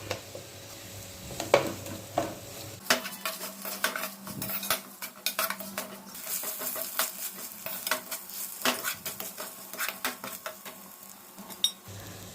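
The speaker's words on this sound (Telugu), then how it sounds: "ఒక స్పూన్ అల్లం వెల్లుల్లి పేస్ట్ వేసి ఫ్రై చేయండి" Ginger garlic paste fries in a pan for a tomato and ridge gourd curry, a low sizzle running under repeated scraping and clinking of a spoon against the metal, near and steady.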